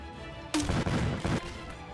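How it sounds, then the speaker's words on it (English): A grenade launcher fires in the VR game Blade and Sorcery, a single loud, booming blast that rings out for about a second over a steady background hum. "This is a freaking grenade launcher."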